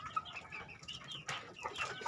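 Chickens clucking in a coop after feeding, several birds giving short, repeated clucks and chatter at close to moderate distance, busier in the second half.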